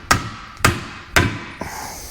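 Three sharp, evenly spaced hammer blows pounding the center out of a worn rubber bushing, each a loud close thud with a short ring, then a lighter tap at the end.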